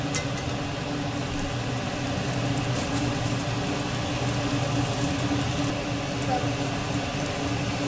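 Bread frying in two spoons of ghee in a pan for shahi tukda, a steady, even sizzle with faint crackles running throughout at close range.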